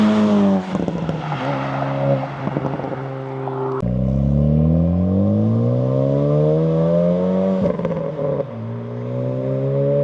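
Honda Civic Type R FL5 with HKS, Cusco, PRL and GruppeM upgrades pulling hard in second gear, a loud rising engine howl that climbs steadily, with a brief dip at a shift before rising again, heard from inside.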